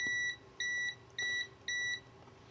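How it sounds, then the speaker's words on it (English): Four short, high electronic beeps from a continuity tester repeat in an even rhythm, each about a third of a second long, clear and close against quiet background. "we push this button, we should hear a beep"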